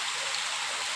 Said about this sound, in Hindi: ओ ये देखो अजान, देखो जहाँ वो फ्लैट है कितनी तेज बारिश लग रही है